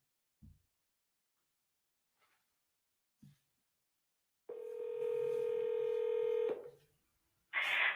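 Telephone keypad dialing at the start of a recorded phone call: a few short faint beeps spaced apart, then a steady two-tone dial signal lasting about two seconds, followed by a brighter tone burst at the end.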